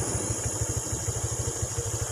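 A motorcycle engine idles steadily in a rural forest setting, a fast, even low thumping pulse with a constant hum, close and moderately quiet, with no voices.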